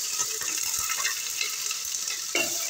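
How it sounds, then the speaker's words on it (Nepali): Onion and chili frying in hot oil for a fish curry give a steady, close sizzle with broadband crackle throughout, and a brief stirring flare near the end. "तेल तातिसक्यो, मैले त्यसले प्याज राखेको छु। मैले खुर्सानी पनि राख्छु,"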